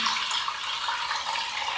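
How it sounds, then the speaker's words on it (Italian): Onion-skin dye being poured through a strainer, a steady, bright rush of splashing liquid that runs unbroken throughout. "usiamo sempre il nostro colino, facciamo così e andiamo a versare"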